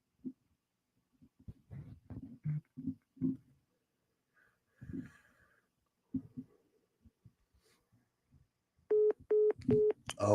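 A telephone call ends with a hang-up tone: a quiet stretch of muffled, distant talk gives way to three loud, evenly spaced electronic beeps.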